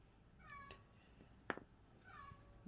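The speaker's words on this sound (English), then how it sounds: "Oh, kitty." A cat meows twice indoors, two drawn-out, fairly close mews about a second and a half apart, with a brief clatter between them and a quiet room otherwise.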